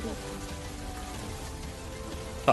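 Cartoon rain falls as a steady, soft patter and hiss across the whole scene, mixed with faint tonal background sound, ending in a short louder thump.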